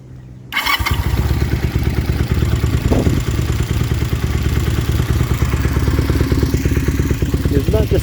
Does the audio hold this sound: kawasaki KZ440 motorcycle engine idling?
yes